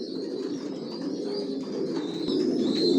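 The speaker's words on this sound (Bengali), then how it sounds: "আমার লফটে সব লং এর কবুতর পালি, কোয়ালিটি সম্পন্ন, সর্বোচ্চ রেস করতে পারবেন এই বাচ্চা দিয়ে।" Racing pigeons cooing inside a loft, a close, continuous low burbling coo from several birds with faint higher chirps above, steady and getting slightly louder.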